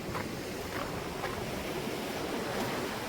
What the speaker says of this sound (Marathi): आणि अगदी बाजूलाच बघा समुद्र आहे